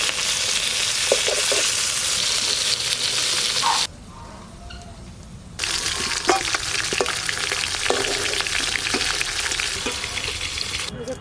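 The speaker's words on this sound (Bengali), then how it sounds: "মাছটা ভেজে নেবো সর্ষের তেল।" Fish fries in mustard oil in a wok, a loud continuous crackling sizzle with brief stirring clatters. The sizzle drops to near silence for a couple of seconds, then resumes just as strongly.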